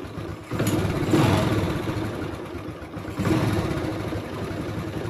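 A Honda Supra X 125 motorcycle engine is kicked over and runs briefly, a close rough mid-pitched chugging that rises twice and sags between, with no voices over it.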